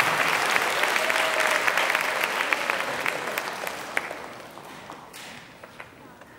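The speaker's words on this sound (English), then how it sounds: "Please give a round of applause to Luke Wilson, Brianna Robb," Audience at a grade 8 school band spring concert applauding steadily, a dense wash of clapping that gradually thins and fades toward the end.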